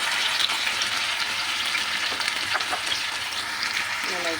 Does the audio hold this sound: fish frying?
yes